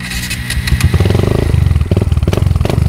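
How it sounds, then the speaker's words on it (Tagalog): A Kawasaki Barako II 175 motorcycle fitted with a 28mm racing carburetor revs up loudly, its exhaust popping and rattling in a fast, choppy rhythm close by. "parang shotgun yung tambutso"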